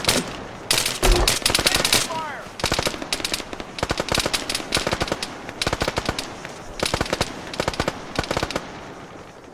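Rapid automatic gunfire rings out in an Arma military shooter, loud and close, in several long bursts and short volleys with only brief pauses between them.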